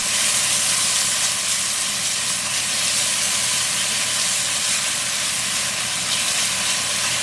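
Garlic and pimento seasonings frying on low heat in a pot for curry mango, a steady, even sizzle that holds unbroken throughout.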